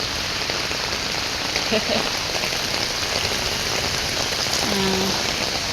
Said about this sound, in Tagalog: lumalakas na po ang ulan. Ayan po. Lakas ng ulan.